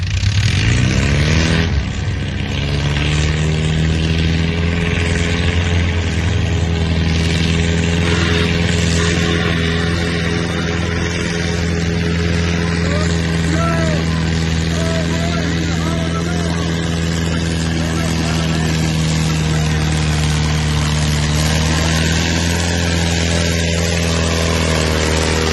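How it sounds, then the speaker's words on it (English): Pulling tractor revving hard at a Memorial Day tractor pull, a loud, sustained roar with a sharp rise at the start, holding steady and near for the whole stretch. "He sent me a video of their tractor."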